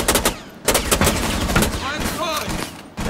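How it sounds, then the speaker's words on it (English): Sharp pistol shots in Rainbow Six Siege ring out in close, rapid bursts with short gaps, fired by the operator Ash, while voices talk over the gunfire. "The ash is just straight up firing with your pistol."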